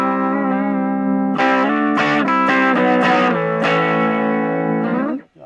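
An electric guitar with distortion plays through a Roland Cube amp: a sustained chord rings out, then a run of loud, buzzing, overdriven strummed chords decays into a brief fading slide at the end, close and prominent with no talking.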